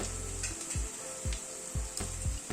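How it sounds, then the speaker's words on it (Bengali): Onion fries lightly in a pan with a quiet, low sizzle, broken by a few soft stirring scrapes at uneven intervals. "খুব হালকা প্রথমে ভেজে নিলাম পেঁয়াজটা"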